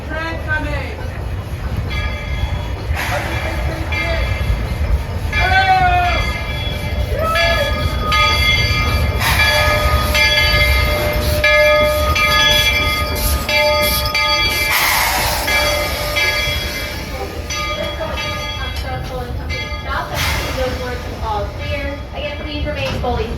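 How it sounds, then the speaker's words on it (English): Walt Disney World Railroad steam train at the Magic Kingdom rolling past loudly, with a long steady rumble and clatter and bright whistle-like tones, while people shout and talk over it. "Who's coming? Train coming!"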